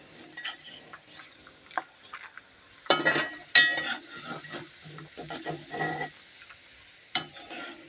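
Yam pieces crackling as they fry in oil, with irregular bursts of sizzle and spatter and a few scraping stirs, fairly close.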